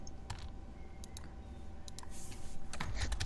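Keys clatter on a computer keyboard in quick, uneven bursts of typing, close by over a low background hum, growing slightly busier toward the end.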